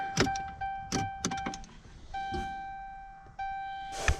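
A Cummins pickup truck's ignition is turned off and back on: steady warning chimes sound and stop, then return, broken by clicks and thunks from inside the cab.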